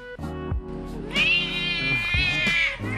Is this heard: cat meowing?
yes